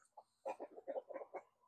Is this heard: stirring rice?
no